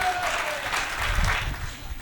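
An audience at a Hindi comedy poetry gathering (hasya kavi sammelan) bursts into steady, dense applause, loud and continuous for a couple of seconds.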